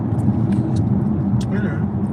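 Car traffic idles and creeps in a jam near Sarasota, a low steady engine rumble with faint hissing brakes, heard under ongoing conversation inside a vehicle.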